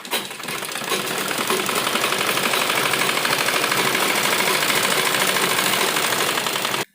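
A sewing machine runs a continuous stitch along the edge of an Afghani salwar, a fast, even mechanical whirr with a rapid needle rhythm that holds steady for several seconds, close up and without talk, then stops abruptly.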